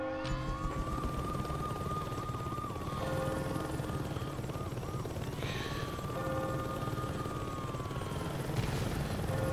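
A helicopter in the video game Saints Row 2 whirs steadily with a loud, constant rotor drone while a wailing siren-like tone rises and falls over it, with no voices.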